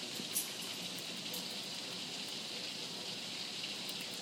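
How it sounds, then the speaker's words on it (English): Steady rain pours down after a hailstorm in San Antonio, a continuous close hiss of water falling and running off a roof, with no voices. "There's rainfall still coming off the hail roof."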